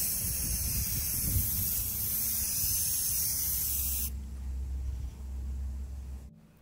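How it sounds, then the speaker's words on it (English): A steady, loud hiss of aerosol spray paint, charcoal gray on lantern frames, runs for several seconds, then cuts off, leaving a quieter low rumble before a brief click. "I'll spray the first 4 frames in charcoal gray"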